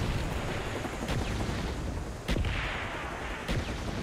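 Several heavy video game artillery blasts boom at irregular intervals over a dense, rumbling backdrop of distant battle noise on the Nuketown map.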